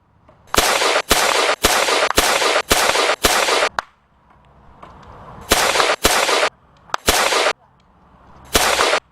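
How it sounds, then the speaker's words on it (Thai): Gunfire in a Thai action film: loud, sharp shots in an evenly spaced volley of six, a pause with low rumble, then another cluster of three and a final lone shot, all close and dominant. "ไม่ทราบว่าจะยิงทำไมเปลืองกระสุนนะเนี่ย"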